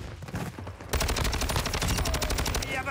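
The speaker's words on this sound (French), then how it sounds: "Je me fais tirer dessus." Rapid automatic gunfire aimed at the player in Call of Duty Warzone 2 bursts in loud and close, a fast unbroken volley that follows a brief stretch of quieter rattling shots.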